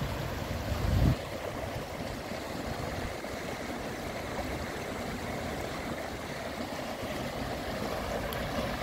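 Sewage water pours into the Lištica river beside a riverside promenade in Široki Brijeg, making a steady, even rush of flowing water that continues throughout after a brief bump at the start.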